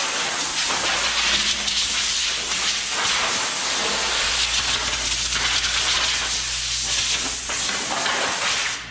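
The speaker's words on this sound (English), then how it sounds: "I'm just trying to blow this residue off." Compressed air blasts residue off a car fender, a loud continuous hiss that holds steady for several seconds with no talk over it.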